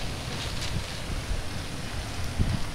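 Strong wind roars steadily against the microphone during a snowstorm in Liepāja, a continuous gusty rumble with occasional louder buffets and no voices.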